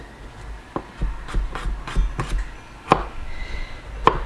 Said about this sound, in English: So I have 6 cloves here. Just gonna give these a rough chop